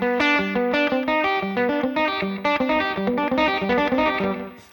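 An electric guitar plays fast hybrid-picked triplets, alternating pick downstrokes with middle-finger plucks, in a rolling, banjo-like run. The tone is slightly driven, the notes are evenly spaced and continuous, and no voice is heard.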